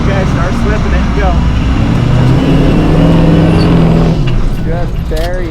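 An off-road vehicle stuck in a recovery revs hard as its wheels spin and dig in, the engine pitch climbing and falling in surges, with voices talking over it.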